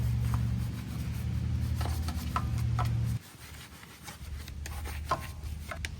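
A brush works Plasti Dip onto a van's 16-inch alloy wheel near the brake caliper, giving soft, close scrubbing strokes over a low hum that cuts out partway through.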